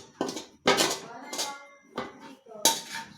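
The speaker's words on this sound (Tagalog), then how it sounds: "Simutin natin yung tira sa kawali para kahit kainin natin, sayang ito." Metal utensil scraping leftovers from a frying pan, five short separate scrapes and knocks with brief pauses between them, close and fairly quiet.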